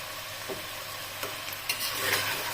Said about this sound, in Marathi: सर्व भाज्या मिळून छानपैकी आपल्याला हलवून घ्यायचं आहे